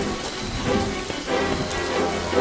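Rain falls steadily in the horror video game Friday the 13th, a constant broadband hiss that stays even and fairly close throughout the short stretch, with no voices.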